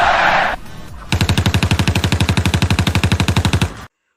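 A hiss is followed by a rapid automatic burst of gunfire, about thirty evenly spaced shots fired in quick succession, loud and close, then sudden silence.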